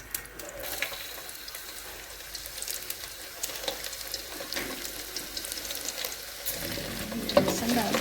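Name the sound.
garlic frying in hot ghee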